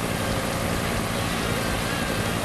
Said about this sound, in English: oversized transport helicopter.